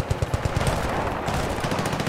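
Automatic gunfire in the video game Battlefield 2, a rapid string of sharp shots firing in quick succession, then a second burst after a brief gap, loud and close.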